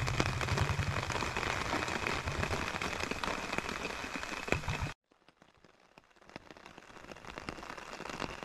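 Heavy rain falls on an island, a dense steady hiss of drops hitting surfaces that cuts off abruptly, then returns as lighter, sparser patter slowly building again.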